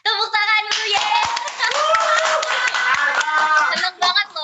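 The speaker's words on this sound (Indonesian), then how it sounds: "Tepuk tangan dulu ya." Hands clapping at a children's talk show event, a close, lively round of applause with sharp individual claps, mixed with children's voices and chatter over it.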